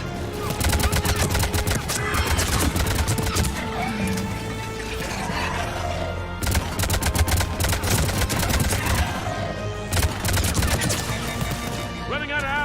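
Rapid bursts of gunfire crackle in Mass Effect 3 combat, with dense volleys of shots in uneven clusters across the scene and brief lulls between them.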